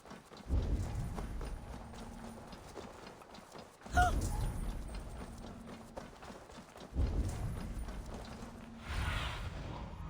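Horse hooves clip-clop in bursts of rhythmic steps in Assassin's Creed Valhalla, pausing and restarting several times, with mechanical clanks and a low rumble underneath.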